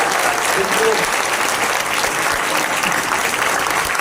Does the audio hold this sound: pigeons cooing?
no